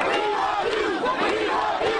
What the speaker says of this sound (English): The crowd chanted.